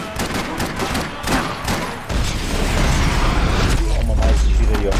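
Gunfire in the Max Payne 3 nightclub kidnapping level, rapid bursts of shots followed by a heavy rumbling boom and lingering low roar, loud and close.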